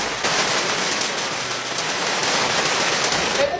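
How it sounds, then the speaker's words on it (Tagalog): Steady rain pours down outdoors, a dense, continuous hiss of drops striking surfaces at close range, loud and unbroken throughout with no other sounds. "Umuulan naman ngayon."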